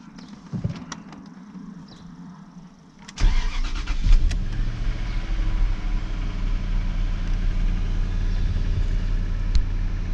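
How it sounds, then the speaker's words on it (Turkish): A Jaguar XJ petrol engine cranks and catches after a few quiet seconds, just after a filter change, then settles into a loud, steady idle close by. "Bakalım bir çalıştıralım kendine gelsin araba."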